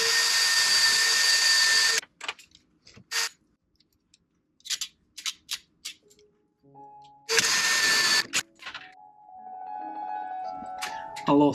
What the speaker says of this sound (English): drill into the middle of the panel